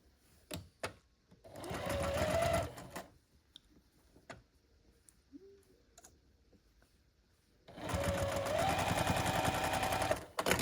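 A sewing machine stitching tiny quilt pieces runs in two close, loud bursts of rapid steady whirring, separated by a quiet stretch of scattered clicks and handling sounds.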